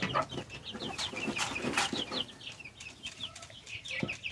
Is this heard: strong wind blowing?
no